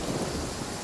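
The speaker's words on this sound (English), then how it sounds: "Taking a stroll in the middle of a downpour certainly" Steady rain and rumbling thunder of a downpour in Genshin Impact, a dense continuous wash with a deep low roll beneath the hiss.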